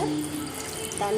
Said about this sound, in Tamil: நல்ல தண்ணியை ஊற்றிக்கலாம்.